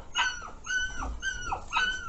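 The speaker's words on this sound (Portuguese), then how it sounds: "Tem um cachorrinho chorando aqui em algum lugar, ó." A small puppy whimpers and whines in repeated high, thin cries with short pauses, fairly close, heard while walking around a rural smallholding.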